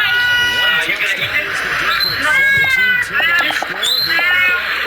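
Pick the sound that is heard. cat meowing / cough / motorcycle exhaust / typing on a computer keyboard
cat meowing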